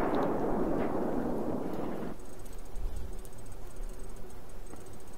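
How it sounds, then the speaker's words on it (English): A commander missile strike in Battlefield 4 lands with a loud, rumbling explosion that roars for about two seconds, then cuts off into quiet low rumble and faint clicks. "Confirm missile launch."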